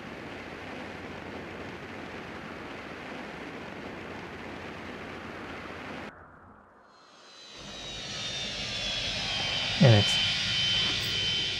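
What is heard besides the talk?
spaceship taking off and landing in the video game Osiris New Dawn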